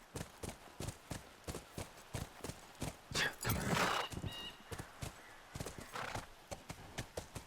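Steady horse hooves in the video game The Last of Us clip-clop at a walking rhythm, with a horse's whinny rising briefly in the middle; clear and fairly close, no talking.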